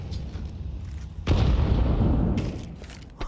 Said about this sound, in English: Grenades landing towards Slimy.